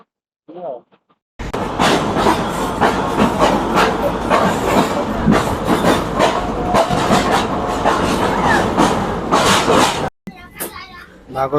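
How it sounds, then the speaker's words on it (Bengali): A train rumbles and clatters along rails while pulling into Nagrakata, a small railway station, loud and continuous, with children's voices and chatter mixed in over the noise. "স্টেশন ঢুকছে নাগরকোট রেল স্টেশন ছোট্টখাট্ট স্টেশন সেবকের পরে এখানে এসে দাঁড়াচ্ছে ট্রেনটা"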